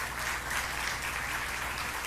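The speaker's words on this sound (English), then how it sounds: "Let's give her a round of applause." A brief stretch of steady audience clapping, moderately loud and continuous, with no speech on top, at a New York state government event.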